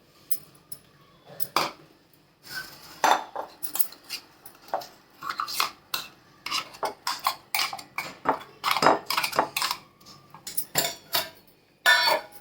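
Green pea dosa batter is scooped from a grinder into a steel bowl, making a run of sharp metallic clinks and scrapes in uneven bursts, close and clear with no talk.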